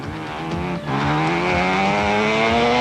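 A 1993 Mazda RX-2 rally car at full throttle on a wet forest stage of the Mount Gambier Rally, its engine note dipping briefly, then climbing loud and close in a rising, sustained wail.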